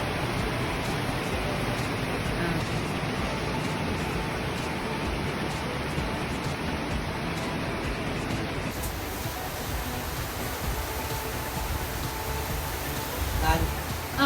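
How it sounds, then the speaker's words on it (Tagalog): Heavy rain pours down steadily as a dense, loud, continuous hiss throughout, with no voices over it. "Ang lakas ng ulan, no?"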